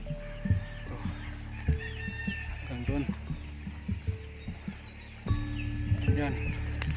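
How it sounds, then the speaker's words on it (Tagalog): Chickens cluck and cackle intermittently close by in a yard, their short calls rising over low background hum while someone talks throughout. "Ito mga manok ko."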